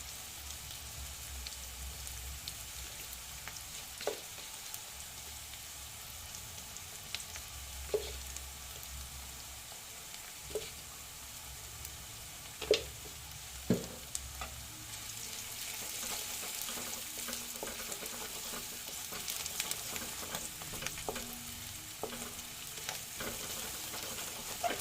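Food sautéing in a pan while sambar is cooked, a steady soft sizzle with scattered clicks and stirring taps throughout, no voices.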